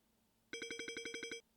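A telephone in a video game rings in a rapid, even burst of about ten electronic trills, loud and clear against near silence, then stops abruptly.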